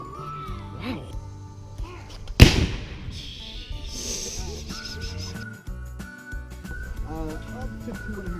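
A cannon fires at an incline railway overlook on Lookout Mountain in Chattanooga, Tennessee, giving one sharp, loud blast that rings out amid outdoor crowd noise and people talking.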